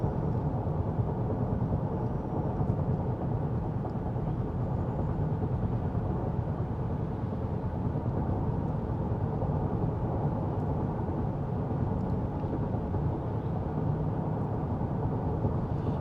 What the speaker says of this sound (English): I think that the Pilot does a great job of canceling out a lot of road noise and wind noise.